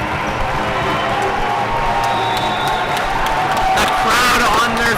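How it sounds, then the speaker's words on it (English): Standing crowd roaring in a gym during a senior boys volleyball championship match, a dense, continuous din that swells near the end, with a commentator talking over it. "The crowd on their feet"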